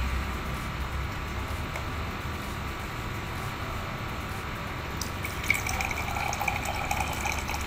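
Water runs steadily from the tap of a homemade water filter in a continuous, even splashing flow that is close and moderately loud, with no voices.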